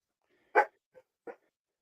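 One sharp nearby dog bark, followed by two softer, shorter yips in quick succession, with silence around them.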